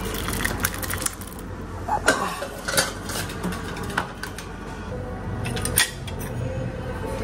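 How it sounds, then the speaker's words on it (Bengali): Ghee, small pieces of beef and ramen noodles with tomato and onion being stirred in a pan, giving a steady run of scraping, clinking and sizzling with a few sharper knocks of the utensil against the pan. "ঘিটা না একটু নাড়ানাড়ি করে নি"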